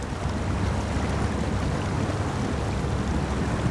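A truck in SnowRunner wading through water, heard as a steady broadband rushing wash with a low rumble underneath, loud and continuous with no voices.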